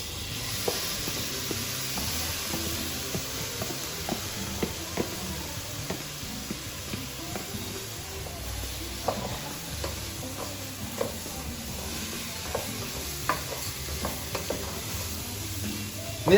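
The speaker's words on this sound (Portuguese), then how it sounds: "a gente vai colocar o tomate picado" Chopped tomato and pepper added to rice in a hot pan for shrimp risotto, giving a steady sizzle and hiss with scattered scraping stir clicks, close and moderately loud with no talking.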